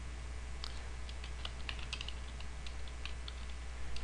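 Someone types on a computer keyboard, keys clicking in quick irregular bursts, soft and close over a quiet background hum, with no talking.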